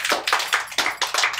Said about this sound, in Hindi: अख्तर के लिए तालियां।